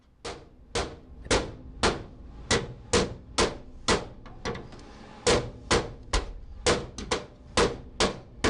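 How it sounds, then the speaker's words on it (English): A hammer strikes metal flanges tight against a car's inner rocker: about twenty sharp, ringing blows land close by in a steady rhythm with brief pauses, and nothing else is heard. "After hammering the flanges tight against the inner rocker"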